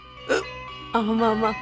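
A woman in a domestic Tamil household scene gives two short, sharp hiccups, one near the start and a longer voiced one later, with people talking around them.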